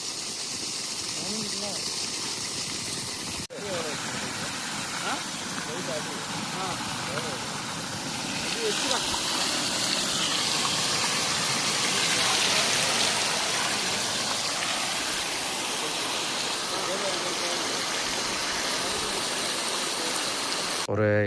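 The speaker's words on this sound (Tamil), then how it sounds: "நூற்றி 50 அடி பம்பனக்கூடிய மோட்டாரு இது." A 5 hp solar water pump pushes water through a 150-foot pipe line outdoors, giving a steady gushing rush that grows louder partway through, with someone speaking over it.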